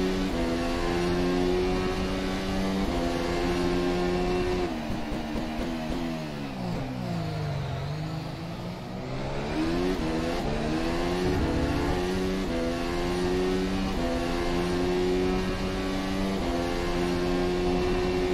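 Zakspeed Formula race car in rFactor 2 at the Montreal circuit, its engine holding a loud, steady high-revving whine, then dropping sharply through downshifts under braking before climbing back up through the gears to full howl.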